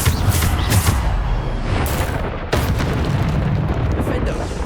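Bombarda spell explosions in the Hogwarts Legacy video game, several loud booming blasts in quick succession, the strongest one landing midway, with rumbling debris in between.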